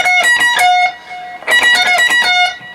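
Electric guitar with effects playing a fast alternate-picked lick from a song's solo, bright rapid notes with a sustained held note in the middle, close and loud.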